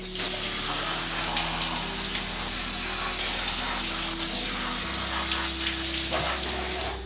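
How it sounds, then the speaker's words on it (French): Steady water jet spraying through hair during a hair-care rinse before a mask, a continuous close hiss with a low running-water rumble that holds throughout and stops near the end. "le jet d'eau là, on s'en occupe"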